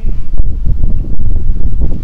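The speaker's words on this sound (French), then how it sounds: "il y a beaucoup de vent ici" Strong gusts of wind batter the microphone indoors, producing loud, irregular low rumbling buffets that surge and drop in quick bursts.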